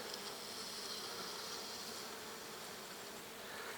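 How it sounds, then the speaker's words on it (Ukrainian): A dense, steady buzzing of many honeybees swarming nearby around lime trees, continuous and even throughout with no talking. "Бджола вся ось тут."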